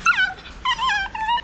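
A small dog lets out a quick string of high yips and whimpers in three short bursts, close and fairly clear with no talking.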